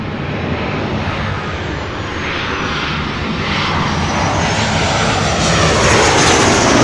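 A Boeing 737 jet airliner touches down at LAX, a loud broad engine roar that holds steady and swells slightly toward the end, heard alone without voices.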